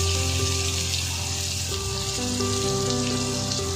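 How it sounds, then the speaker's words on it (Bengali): Chandramukhi potatoes fry in a pan with a steady, close sizzle that crackles on without pause, some tonal hum running underneath, and no voices. "তো আলুটা ভাজা হোক,"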